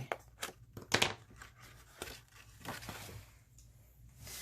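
Scissors snip through paper near at hand, cutting a V shape below a marked line on a Santa-themed file folder, with a few crisp bursts of paper rustle and crinkle in short irregular strokes.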